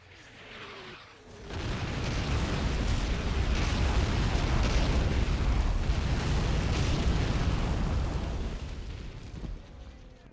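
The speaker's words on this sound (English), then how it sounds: "you can get rid of it with a little artillery strike" Artillery strike explosions in Men of War Assault Squad 2 erupt in a dense, sustained barrage of booming blasts lasting about eight seconds before tapering off.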